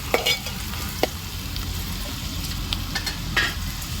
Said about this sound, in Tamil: எல்லாத்தையும் நல்லா அப்படி ஒன்றா வதக்கி விட்டுக்கலாம்